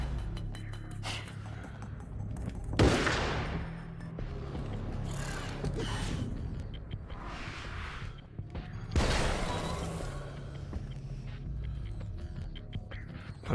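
A slow-firing hunting rifle in the video game Alan Wake lets off two loud, widely spaced shots several seconds apart over a constant low game ambience and scattered effects.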